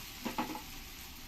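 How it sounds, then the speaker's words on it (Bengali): Soybean chunks slipped one by one into hot cooking oil, giving a couple of brief, soft sizzling bursts that settle into a quiet, steady fry with no talking. "তেলটা আমার গরম হয়ে গেছে এবার আমি একটা একটা করে ছেড়ে দেব"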